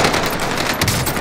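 Dense automatic gunfire in Call of Duty Warzone on Rebirth Island, likely the NZ-41 rifle, a loud continuous rattle of rapid shots filling the whole moment with no talk over it.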